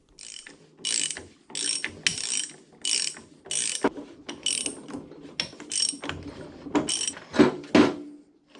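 Ratchet wrench backing off mounting nuts on a K&T universal milling head, sharp close clicking bursts repeated in short strokes with brief pauses between them, no talking.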